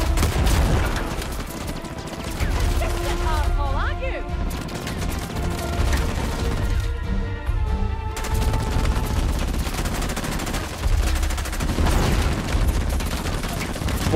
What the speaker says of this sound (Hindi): बहुत ही खतरनाक फायरिंग हो रही है।